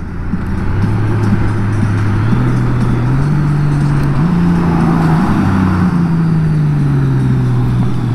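A DCT motorcycle on the road, its engine note climbing and stepping through gear shifts while steady wind and road roar sit under it, loud and close.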